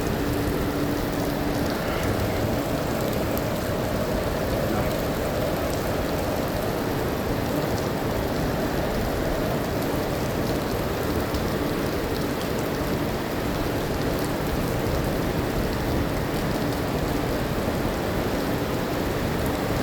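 Heavy rain pours down steadily on a road, a dense, loud, unbroken hiss that fills the whole stretch without pause.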